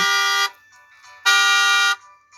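A car horn honks two long, steady blasts, each about half a second or more, separated by a short pause and heard up close.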